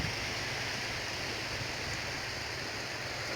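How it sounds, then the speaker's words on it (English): Waves washing over the beach at low tide beneath the Beachy Head chalk cliffs near Eastbourne, a continuous broad hiss of surf, close and steady with no distinct breaks. "The waves almost touching my tripod."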